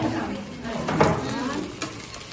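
An egg frying in a pan during a school cooking activity, a soft crackling sizzle with a scrape of a utensil near the middle, as people talk over it.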